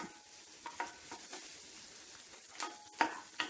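Onions and curry leaves fry in a roasting pan for a Kerala crab and raw plantain curry, with a soft sizzle broken by a few scraping stirs, the loudest near the end.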